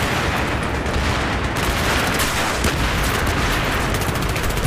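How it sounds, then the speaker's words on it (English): Grenade explosions in Battlefield 3 on Operation Metro during a 64-player Conquest match, a dense loud barrage of blasts and booms packed close together alongside rapid gunfire, nearly continuous throughout. "Oh god, those grenades. That's a lot of grenades."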